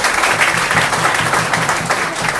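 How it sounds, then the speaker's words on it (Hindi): Loud, steady applause from an audience at a speaking event, dense clapping sustained throughout without a break. "एक बार जोरदार तालियां चाहूंगा राकेश शर्मा जी।"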